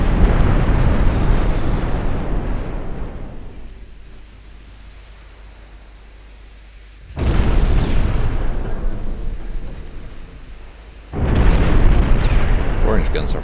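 Heavy naval guns of the warship St. Vincent roar in a dreadnought-era sea battle, two loud broadband booming salvos with long rumbling tails, separated by a quieter lull.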